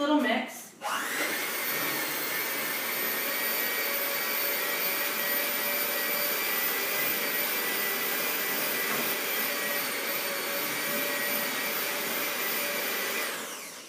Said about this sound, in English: And then we're going to go ahead and take our mixer and just give it a quick little mix.